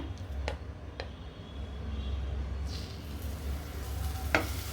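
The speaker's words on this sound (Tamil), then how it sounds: "இதில் ஒரு ஸ்பூன் நெய் சேர்த்துக்கிறேன் இப்போ நெய் உருகினதுக்கப்புறம் அடுப்பை வந்து சிம் பண்ணிவிட்டு மசிச்சு வச்சுருக்கிற வாழைப்பழத்தை இதில் சேர்த்துக்கிறேங்க" Mashed banana cooks in melted ghee in a kadai over low heat, giving a soft, steady sizzle with a few brief clinks of a spoon against the pan and no voices.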